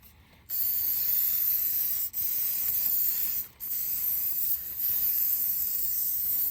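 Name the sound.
silicone spray aerosol spraying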